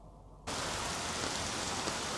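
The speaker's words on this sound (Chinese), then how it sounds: "我的妈呀，这个雨还挺大的。" Heavy rain outdoors in Shanghai, a dense, even hiss that swells up suddenly and then pours on steadily and loudly, with no voices over it.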